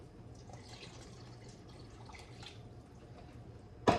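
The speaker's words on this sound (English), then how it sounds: "Now I'm going to add 3 cups of water." Three cups of water poured steadily into a pot of goulash cooking on the stove, a close, even splashing rush with no talk, ending in a sharp bump.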